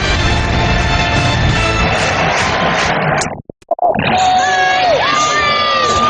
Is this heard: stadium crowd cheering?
yes